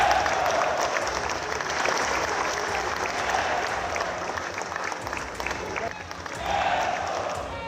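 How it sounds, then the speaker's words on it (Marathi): A large crowd of Shiv Sainiks and MNS supporters applauds at a political event, a dense, sustained roar of clapping that swells near the end, with voices mixed in. "ही दृश्य पाहिल्यानंतर शिवसैनिक आणि मनसैनिकांनी टाळ्यांचा गडगडाट केला।"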